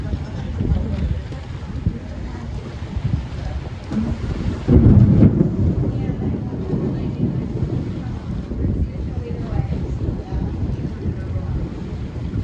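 Thunderstorm near Destin, Florida while out on the water: a steady wash of rain and wind buffeting the microphone, with a heavier rumble of thunder swelling midway and then settling back into the continuous downpour.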